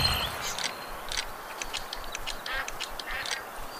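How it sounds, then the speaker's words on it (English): Ducks quacking repeatedly during a duck hunt in the Duck Dynasty game on PS4, a busy run of close, clear quacks and calls with no talk over them. "Hunt 15 ducks, because apparently we eat 7 ducks apiece at this fucking farm."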